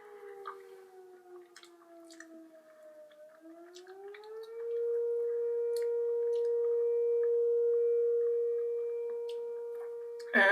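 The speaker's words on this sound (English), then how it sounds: "That is a fire whistle that you're hearing, by the way." A fire whistle siren sounds for an emergency. Its tone slides down, then rises and holds a steady wail at moderate distance, with faint ticks and small noises nearby.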